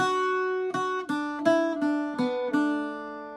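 An Irish bouzouki plays one bar of the tune MacArthur Road, about six clearly picked notes in a steady rhythm with ringing strings, solo and close.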